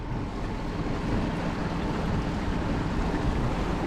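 An outboard-powered boat runs at full throttle on a foggy lake, a steady loud engine-and-water rush with wind buffeting the microphone throughout, no voices.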